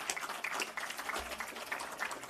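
Applause from an audience at a garden party marking a centenary, a steady, fairly faint patter of many hands clapping with no one speaking.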